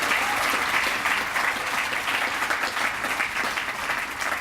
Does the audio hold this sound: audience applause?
yes